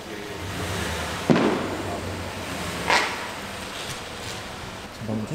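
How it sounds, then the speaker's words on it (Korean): Two sharp bangs, likely fireworks, ring out a couple of seconds apart at night in the United States, the first louder, with quieter pops after, heard outdoors at some distance. "방금 총소리 아니야? 총소리 같은데?"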